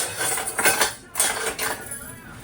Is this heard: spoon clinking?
yes